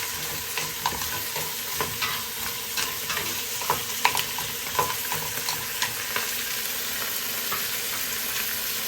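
Vegetables such as squash are stirred and sautéed in a hot pan for a mud crab dish in coconut milk, a close, continuous sizzle broken by regular scraping strokes of the spatula.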